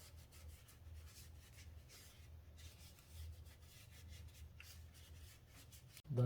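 Cleaning around the spark plug area of a 2016 Audi A7 Quattro Prestige engine gives quiet rubbing and brushing strokes in a steady rhythm, faint and close, ending in a short bump.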